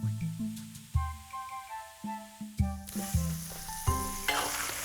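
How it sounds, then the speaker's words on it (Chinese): Pork topping for Sichuan dandan noodles stir-fries in a wok after soy sauce goes in, with steady sizzling and repeated scraping strokes of the spatula at close range. "酱油下锅以后还要继续炒"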